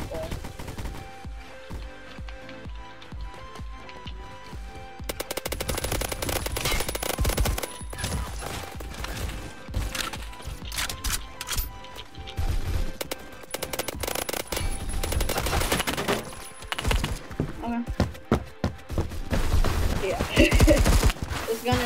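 Automatic gunfire in the Phantom Forces video game, rapid bursts of loud shots that start after a quiet opening and continue in dense, uneven volleys, with a voice talking over parts of it.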